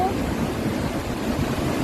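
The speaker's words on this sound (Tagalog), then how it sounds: "Oh, grabe yung alon to." Big ocean waves crash against the rocky shore at Santa, Ilocos Sur, making a loud, continuous broadband roar with wind buffeting the microphone and no clear breaks between surges.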